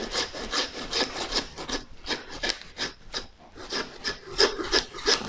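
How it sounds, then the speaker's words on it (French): A handsaw rasps back and forth through a veal forequarter breast in a butcher's setting, close, steady rhythmic strokes about twice a second with gritty scraping, and no talking. "je mets un coup de scie et je t'explique. Voilà, tu mets un coup de scie comme ça."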